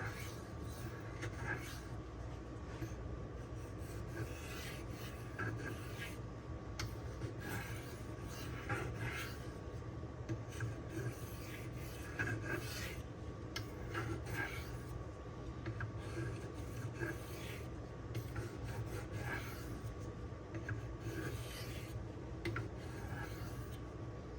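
Cold Steel Swift knife blade drawn in light minimization passes across a DMD diamond stone, a quiet repeated scraping rasp in steady strokes, close but faint.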